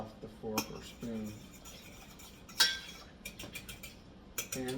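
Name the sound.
fork or spoon stirring in soup pot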